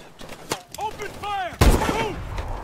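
Gunfire in the Call of Duty Advanced Warfare Bio Lab escape mission, with sharp shots and a heavy blast under shouted voices and whooshing effects, close and loud.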